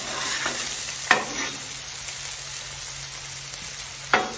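Bacon sizzling on a griddle for a patty melt, a steady hiss with two sharp scrapes of a grill scraper, close and fairly loud.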